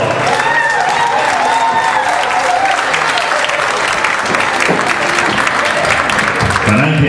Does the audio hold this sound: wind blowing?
no